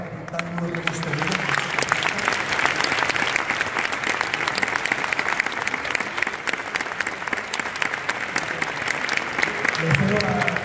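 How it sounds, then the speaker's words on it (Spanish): Loud, sustained applause from a concert audience honouring the performers of a Dulce Nombre de Jesús Nazareno event in León, dense continuous clapping filling the room, with a voice briefly heard at the start and end. "Pido un fuertísimo aplauso para todos mis compañeros por el trabajo tan duro que hemos tenido."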